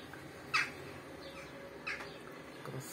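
Birds perched on overhead wires give a few short, harsh squawking calls, three separate bursts spaced out over a quiet outdoor background at moderate distance.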